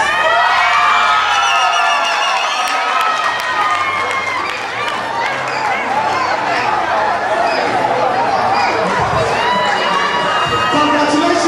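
A large audience at the Miss Ghana Ireland 2009 beauty pageant cheers, whoops and shouts loudly and continuously, a dense close crowd roar with applause mixed in.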